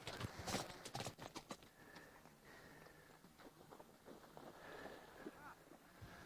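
Horse hooves clip-clop faintly across the Zhaosu grassland in Xinjiang as an Ili horse is ridden, an uneven run of soft thuds under wind and distant people talking.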